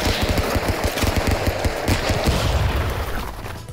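Rapid bursts of video-game gunfire from Stick Fight crackle in quick succession, dense sharp shots and small booms piling together for a few seconds before tapering slightly.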